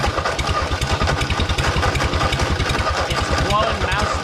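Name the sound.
Ford 8N tractor engine running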